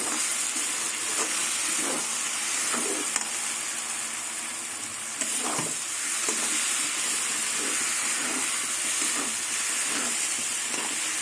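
A paste of green chilli and poppy seeds fries on low gas with a continuous hissing sizzle. Faint scrapes of stirring recur throughout, with no voices.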